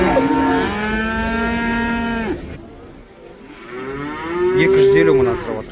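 Two loud, close moos from cattle at the Karabulak livestock market, a long steady low followed after a short pause by a second rising call, with faint market noise behind.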